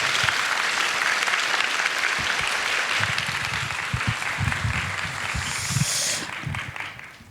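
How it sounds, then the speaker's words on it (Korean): An audience of young adults at a church gathering applauds the pastor with sustained, dense clapping from many hands. A few louder nearby claps stand out before the applause fades near the end. "목사님께 박수 한번 부탁드립니다"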